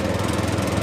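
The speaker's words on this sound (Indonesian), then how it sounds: "Mesin traktornya mati." A tractor engine runs with a steady low rumbling chug, loud and close, continuing without pause through the short moment.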